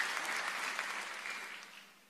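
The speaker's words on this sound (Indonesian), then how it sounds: "Kasih tepuk tangan tim praise worship yang luar biasa" Applause for a church praise and worship team, steady and fairly distant, fading slightly toward the end with no talking over it.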